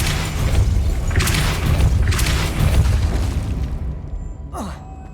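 A Depulso spell cast in the video game Hogwarts Legacy, a loud, deep booming rush with surging swells that fades out, followed by a short whooshing sweep near the end.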